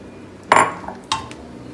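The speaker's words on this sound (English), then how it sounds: "And then you add the rest of the beans, and then 3 cups of the broth." Black beans and broth go into a soup pot for black bean and squash soup: two separate clattering, clinking impacts about half a second apart, close and fairly loud, with a quiet kitchen background between them.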